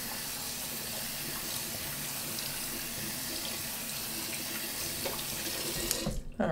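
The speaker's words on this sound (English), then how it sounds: "We'll wash off the hands." Tap water running steadily into a sink while hands are washed, a continuous close hiss of flowing water that ends abruptly with a clatter as the tap is shut off.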